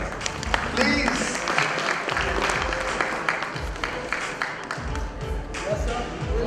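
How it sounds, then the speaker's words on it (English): Audience at an echocardiography academy fellowship ceremony breaks into sustained applause, dense clapping from many hands in a hall, with a voice speaking briefly over it. "Again a big round of applause from that side."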